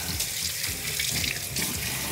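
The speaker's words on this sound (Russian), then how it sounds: "После того, когда инструмент полежал в ламиноле, мы его обязательно промываем под проточной водой." Hairdressing tools such as massage combs and clips are rinsed under a running tap after soaking in disinfectant, giving a steady, fairly loud rush of water splashing into a sink, with no talking.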